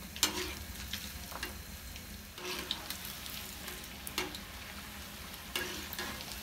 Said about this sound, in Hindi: पनीर को अच्छे से गोल्डन क्रिस्पी फ्राई होने में लग जाएंगे तकरीबन 4 से लेके 5 मिनट